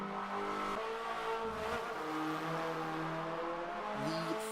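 First-generation Hyundai Veloster N lapping the national layout of Circuit de Catalunya in Forza 7, its engine revving and shifting through gears with rising and falling pitch, plus a brief tire squeal, steady and fairly close.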